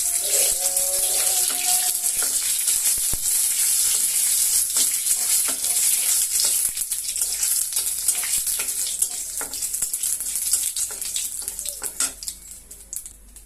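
A dried red chili and three small cardamom pods sizzle loudly in hot oil while being stirred, a dense continuous crackle up close with scattered scrapes of the spoon that slowly fade.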